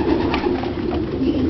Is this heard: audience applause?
no